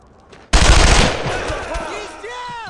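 Loud burst of machine gun fire in the World War II shooter Brothers in Arms: Road to Hill 30, erupting suddenly as a dense rattling volley, then easing into a softer sustained spray with ringing whistles of battle behind.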